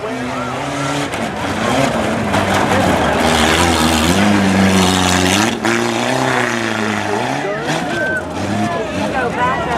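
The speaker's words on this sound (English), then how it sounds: "And he's cranking down for the jump." A Nissan pickup truck revs hard in a tuff truck race at the Hartford Fair, its loud engine rising and falling in pitch continuously throughout, with an announcer talking over it and crowd noise around.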